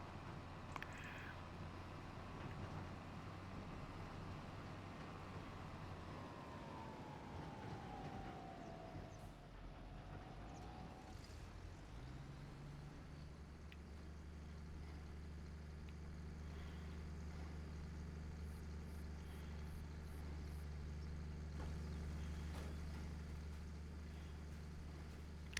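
Case Puma tractor fitted with a front loader in Farming Simulator 25, a steady low engine drone that starts rising around midway and then holds loud and constant, with a brief tonal sweep heard earlier.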